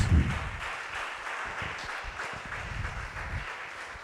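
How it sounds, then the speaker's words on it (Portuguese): A church congregation applauds continuously during a worship service, a dense wash of clapping from many hands that holds steady throughout without any talking. "E aplaudo o nome dele mais uma vez."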